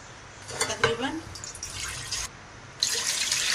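Water is poured from a glass into a cooking pot holding washed paya trotters, making several short splashing, trickling bursts separated by brief pauses.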